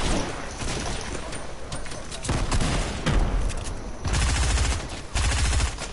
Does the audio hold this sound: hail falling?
no